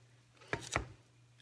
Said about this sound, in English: I just like to kind of chop it at an angle like that